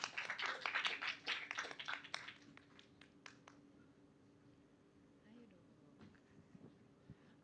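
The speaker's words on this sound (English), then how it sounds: "Please give a round of applause to our grammarian" Indoor Toastmasters meeting audience clapping for the grammarian: a dense burst of many hands for about three seconds that thins to scattered claps and fades into quiet room tone.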